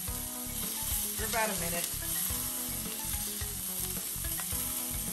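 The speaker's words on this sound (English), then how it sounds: "we're basically trying to sear the edges" Roast beef sears in a hot pan for deli-style sandwich meat, a loud steady sizzle with rhythmic crackling throughout, and someone talks briefly over it.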